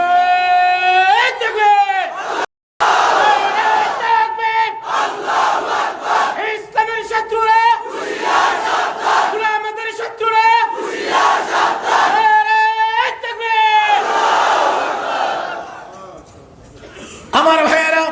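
A large religious gathering answers a speaker's call with repeated loud crowd shouts of takbir, several rhythmic bursts of many voices chanting together with short pauses between them.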